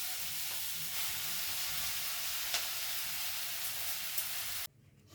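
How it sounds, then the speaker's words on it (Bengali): Spinach going into a hot pan sizzles steadily with a dense, bright frying hiss that stays loud and constant before stopping abruptly near the end. "এইবারে শাকটা দিয়ে দিচ্ছি"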